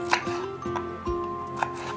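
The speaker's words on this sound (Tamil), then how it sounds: "வெண்டைக்காயை வந்து இந்த மாதிரி நாளாக நீங்கள் வந்து கட் பண்ணிக்கோங்க." A knife chops okra sharply against a cutting board, several quick cuts spaced unevenly, close by, over a faint steady background hum.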